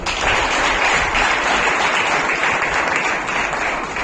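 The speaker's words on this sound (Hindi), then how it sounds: "तो उसके लिए जोरदार ताली।" At an award ceremony, a student audience breaks into loud, sustained applause, a thick continuous roar of clapping that stays strong from start to end.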